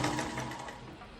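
Sewing machine stitching the lining of a floor-length umbrella-cut kashmiri baju garment: a steady, close, continuous mechanical whir running throughout.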